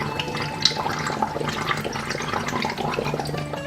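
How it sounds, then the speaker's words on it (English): Fermenting grapes bubbling in a wine cellar, a continuous wet gurgle with scattered pops and small splashes, close and fairly loud throughout. "the bubbling sounds from the fermenting grapes"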